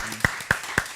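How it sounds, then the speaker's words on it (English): An audience at a literary festival in Accra claps in three sharp, evenly spaced claps, close and fairly crisp, over a quiet room. "thank you for the clapping"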